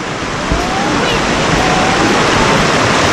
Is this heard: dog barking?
no